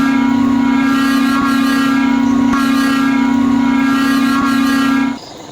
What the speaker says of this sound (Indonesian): Nah, seperti itu untuk klakson setirnya ya cuy.